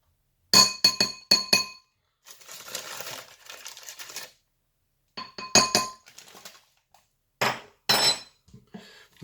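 Beef mixed with starch and pepper in a glass bowl: bright, sharp clinks and taps against the glass in quick clusters, with softer scraping and stirring between bursts, close and clear with no talking.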